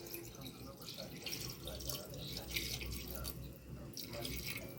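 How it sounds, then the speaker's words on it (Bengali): Water pours steadily into mutton in a handi, making a continuous splashing, trickling rush that stays fairly even for several seconds against a noisy kitchen background. "এবার দিলাম জল।"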